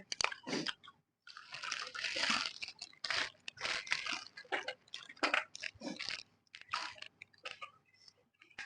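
Someone eats crunchy pork cracklings up close, with loud repeated crunching and chewing bursts separated by brief pauses, heard alone without talking.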